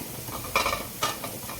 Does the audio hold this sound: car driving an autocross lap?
no